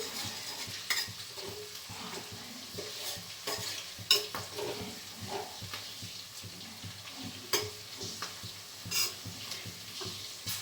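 Garlic and green chillies fry in a pan for a chicken fry, giving a soft, steady sizzle broken by repeated sharp clinks and scrapes of a spoon stirring against the pan.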